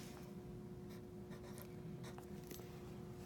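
A pen scratches over a paper score sheet in short, irregular strokes as numbers are written down, soft and close against a steady background hum, with no talk.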